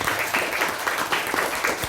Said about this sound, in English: let us give a round of applause for all the Toastmasters for you